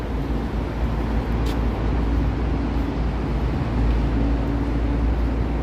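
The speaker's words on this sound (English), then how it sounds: "this part of the city is always quite noisy with all the traffic" Steady roar of city traffic near the Gardiner Expressway in Toronto, a dense continuous wash of passing vehicles heard close by with no voices.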